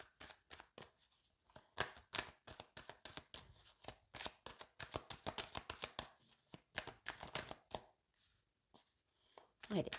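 Tarot cards shuffled close by in quick bursts of sharp flicks, with brief quiet gaps and a final draw; a voice talks softly at points.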